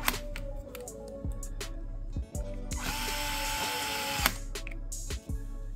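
A power screwdriver drives screws into an MST RMX 2.0 RC car chassis, with short whirring bursts broken by clicks and handling noises close by, one longer run in the middle.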